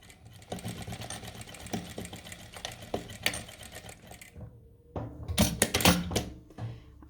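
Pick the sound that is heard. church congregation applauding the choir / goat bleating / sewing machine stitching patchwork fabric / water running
sewing machine stitching patchwork fabric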